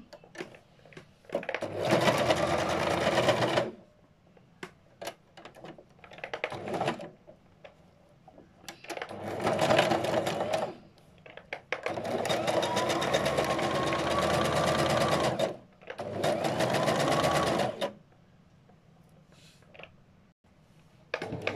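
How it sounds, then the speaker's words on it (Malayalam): A sewing machine stitches fabric for a petticoat in bursts. Several separate runs of steady mechanical whirring are spread across the clip, with short quiet pauses and small handling clicks between them. "ഇനി മറ്റൊരു ഭാഗത്തും അതേപോലെ ഞങ്ങൾ സ്റ്റിച്ച് ചെയ്യാം"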